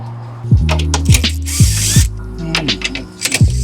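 A hand ratchet loosens 10 mm bumper bolts on a 2006 Trailblazer SS, giving loud, close bursts of rapid clicking, several separate strokes with short pauses and a brief hiss of movement in between.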